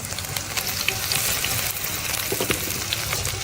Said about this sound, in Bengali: এবার আমি তেলের মধ্যে পেঁয়াজ কুচি এবং মরিচ কুচিটা দিয়ে দিব